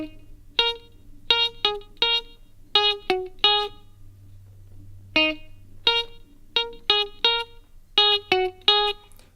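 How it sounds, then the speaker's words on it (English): Guitar picks out the riff from a song, two phrases of sharp plucked notes in a repeating rhythmic pattern with a short pause between, close and clear over a low steady hum. "So when you put together from the beginning, it sounds like this."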